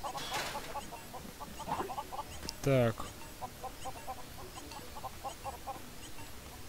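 Chickens in the video game LEGO Worlds cluck in short repeated bursts throughout, fairly faint, with a brief louder squawk near the middle and someone speaking briefly.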